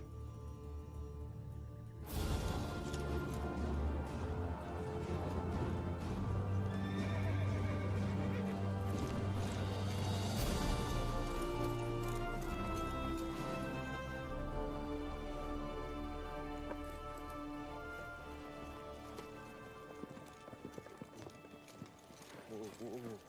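A horse whinnies loudly while hooves clip-clop in a steady rhythm on open ground, mixed with continuous background music and movement through a western film scene.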